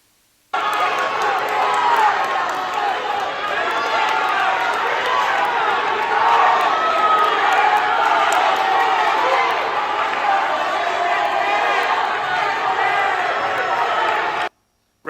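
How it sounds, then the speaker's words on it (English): Crowd noise from a high school wrestling match, with spectators on both sides standing and cheering their teammates on, a steady loud roar of many voices that runs unbroken for most of the clip. "folks standing up, cheering their teammates on"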